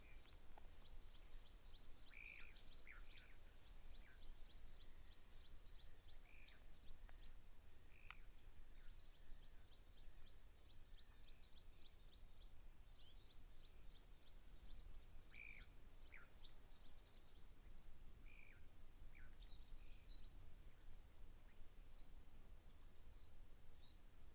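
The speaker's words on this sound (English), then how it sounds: "from what I can just hear with all the birds chirping" Faint, distant birds chirping at a waterhole in short scattered calls over a soft, steady background hiss.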